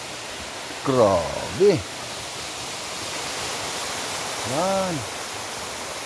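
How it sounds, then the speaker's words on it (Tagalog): Hinolugan Falls in Guinobatan, Albay gives a continuous even rush of falling water, with people talking briefly and exclaiming over it. "Dito na po yung falls."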